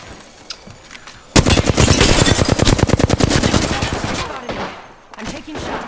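Rapid automatic gunfire from the video game Apex Legends rattles out in a loud, dense burst lasting about three seconds, then tapers off, with a few more shots following after a short pause.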